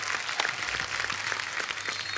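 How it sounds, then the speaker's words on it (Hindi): A studio audience on a Hindi comedy talk show bursts into dense, sustained applause, steady and fairly loud throughout with no voices on top. "जोरदार तालियां"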